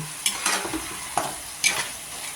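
A ladle stirs dinuguan, a pork blood stew, in a frying pan, with a soft sizzle underneath and several scraping, clinking strokes spaced unevenly over a couple of seconds, close and moderately loud.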